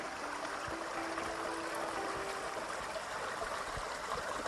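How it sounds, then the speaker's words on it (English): Leatherwood Creek in the Upper Buffalo River area running over rocks, with a steady, close rushing and trickling wash of water that never lets up. "I'm standing in the middle of Leatherwood Creek, and the water is going underneath right now"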